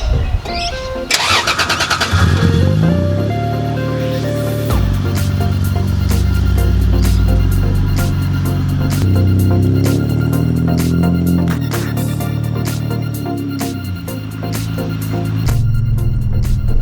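A 1975 Toyota Crown MS85 fitted with a swapped 2JZ engine cranks briefly and fires up, then idles loud and rough before revving and pulling away, with sharp clicks and ticks scattered over the engine note.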